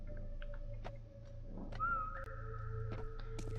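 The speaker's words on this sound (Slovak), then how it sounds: "Pískam, tak poď za mnou." Faint whistling from a person during a game session: a few short, thin whistled tones rising above a quiet hum of background music and small game noises.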